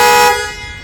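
Car alarm horn set off by the panic button, one loud close blast cut short and trailing off within a second.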